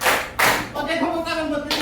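Students in a classroom clap in a short rhythmic pattern, with loud, sharp group hand-claps arriving in separate bursts and a voice calling out between them.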